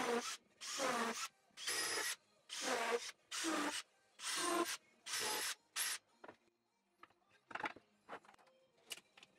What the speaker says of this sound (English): drilled holes deep enough to eventually have the screw heads slightly inset